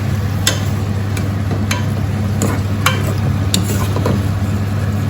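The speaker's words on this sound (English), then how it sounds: "now I'm going to mix it all up" A spoon scrapes and clacks in a pan of prawn jalfrezi, a handful of sharp, irregular knocks over a constant low sizzling hum, close by with no talk.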